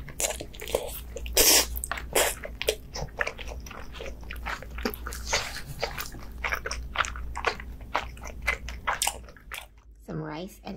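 Close-up bites and chewing of fatty bluefin tuna belly sashimi with vinegared rice, soft wet crunches and smacking in a dense irregular rhythm, with a brief voice near the end.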